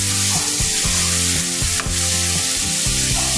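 String beans (sitaw) hit a hot pan of sautéed tomatoes and sizzle loudly and steadily, a dense frying hiss with faint clinks of stirring, no talk over it.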